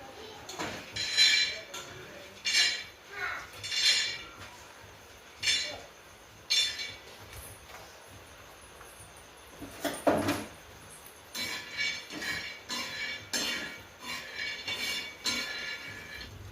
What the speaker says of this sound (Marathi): आता यानंतर आपण शेंगदाणे भाजून घेणार आहोत.